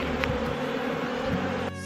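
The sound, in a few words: honey bees buzzing at an open beehive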